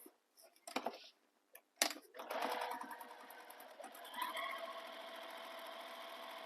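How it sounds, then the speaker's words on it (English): A sewing machine back stitching a bag, running in a few short stops and starts, then a steady close whir that carries on to the end. "I'm going to have to back stitch."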